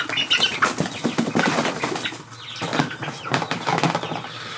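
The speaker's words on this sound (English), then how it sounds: "chicken's trying to escape" Small chickens in a garage flapping their wings in repeated rapid bursts while trying to escape, close and fairly loud.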